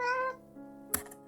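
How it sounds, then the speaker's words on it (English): A cat gives one clear, close meow with a bright, rising tone, then falls quiet apart from a brief sharp knock. "Hello, cat."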